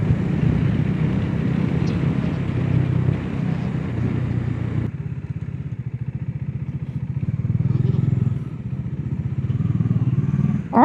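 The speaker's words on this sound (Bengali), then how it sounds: "ইঞ্জিনটা অফ কর কথা শোনা যাবে না" A motorcycle engine runs steadily throughout on a toll road ramp, a low continuous drone with a brief dip in level midway before rising again.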